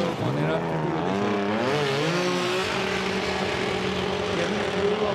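A Formula Drift Japan car at Okayama screams through a corner at high revs, its engine pitch climbing and sweeping while tires squeal, with a commentator talking excitedly over the steady, loud roar.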